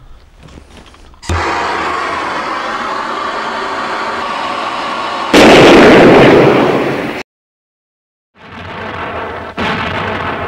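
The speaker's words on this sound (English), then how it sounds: "we've got our cartridge now with no powder in, so I'm putting it in the vise and we'll detonate it by applying some heat" Empty cartridge primer, with no powder, heated in a vise until it detonates: a sharp crack, then a steady roar, a much louder burst of hiss lasting a couple of seconds, abrupt silence, and later more roaring noise.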